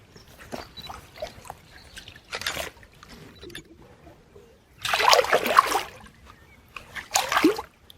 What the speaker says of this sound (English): we're going to give Connor a little bit of water as it's a PB.